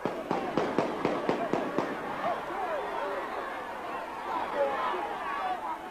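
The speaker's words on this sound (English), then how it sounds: "yet another excuse for gunfire." A rapid burst of about seven sharp cracks of gunfire in the first two seconds, in Tivoli Gardens, Jamaica, followed by murmuring crowd noise and scattered voices.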